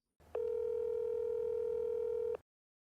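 A steady telephone ringback tone plays after a speed-dial call to an ex-congressman, one continuous two-second held note with a faint click at its start and end, alone and clear.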